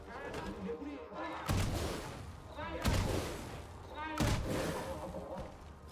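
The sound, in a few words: cannon firing in the Clair Obscur: Expedition 33 video game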